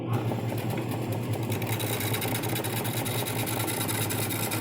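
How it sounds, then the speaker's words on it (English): A wood lathe spins a tree-stump workpiece, giving a steady mechanical whir with a low hum, close and continuous without talk. "the good thing about a wood lathe is it doesn't spin fast enough or hard enough to hurt you"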